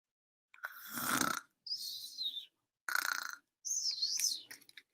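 Snoring sounds in four separate bursts with gaps between, fairly quiet and close, each breath wheezing and whistling.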